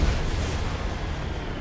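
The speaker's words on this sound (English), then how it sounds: "I love this heavy cannon." Heavy cannon fire in the Mass Effect video game: a dense, sustained low rumbling boom that stays loud throughout with no voices.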